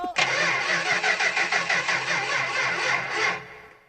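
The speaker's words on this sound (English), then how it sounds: "A little sketchy there for a minute, trying to get it started, huh?" A 1965 Ford Fairlane 500 engine cranks with a rapid rhythmic churn for about three seconds, catches briefly, then fades, loud and close with no talk over it.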